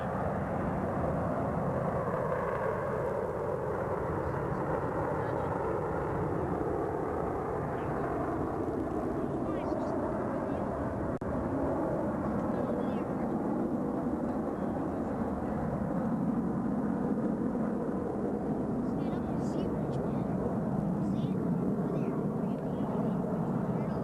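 Blue Angels F/A-18 Hornet jets flying in formation at a 1991 military air show, a continuous loud engine roar with shifting whine, steady throughout, with a voice talking faintly underneath.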